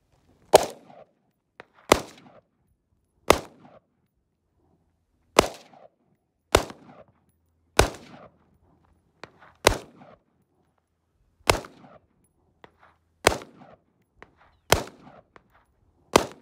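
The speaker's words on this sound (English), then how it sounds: "this is your dad shooting." Gunshots at an outdoor shooting range in Rosamond, California: about a dozen sharp single cracks spaced one to two seconds apart, each trailing a short echo, fairly close, with quiet in between and no talk.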